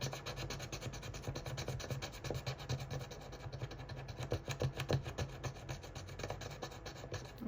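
A coin scratches the coating off a scratch-off lottery ticket: a steady close rasping rub of quick repeated strokes, quiet and continuous, with no talking.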